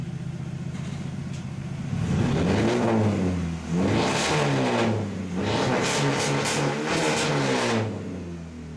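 A Dodge Neon engine, freshly replaced, cranks and catches, then revs sharply several times in close bursts, rising and falling between blips over a rough idle.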